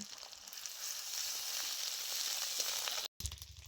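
Garlic and ginger paste frying with well-browned chopped onions in a pan, giving a steady, close, fairly loud sizzle that runs on without pause until a brief cut near the end.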